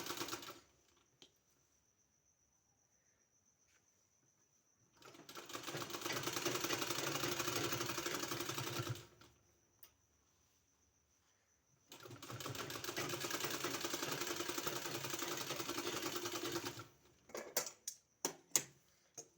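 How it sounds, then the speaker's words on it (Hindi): A sewing machine stitches a kurti sleeve in two sustained runs of rapid, even whirring, each about four seconds long, close by with quiet pauses between and a few light clicks at the end. "इस तरह से सिलाई लगाने के बाद हमको पीछे की साइड इस तरह से फोल्ड करके और यहाँ सिलाई लगा देना है।"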